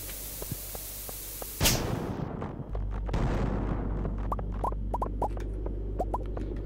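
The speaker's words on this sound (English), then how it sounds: "Let's just bomb this." A bomb detonates in a mine in the Stardew Valley video game, giving one sudden loud blast followed by a rumbling tail, with small chiming game effects afterward.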